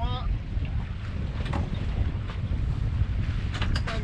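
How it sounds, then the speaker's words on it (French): A sailboat engine drones steadily at low pitch beneath wind buffeting the microphone, with faint water and deck noises throughout. "Et le moteur tourne toujours."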